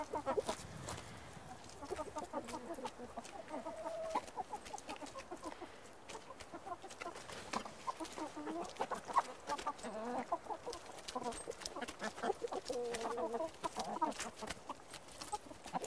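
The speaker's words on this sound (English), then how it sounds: "So we've got 14 hens and 1 rooster." A flock of 14 hens and a rooster cluck and chatter continuously, several birds close together making overlapping soft calls and short squawks, with no people talking.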